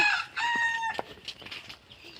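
A chicken calls out with loud, harsh squawking clucks, a few rapid bursts up close, fading into quieter clucks.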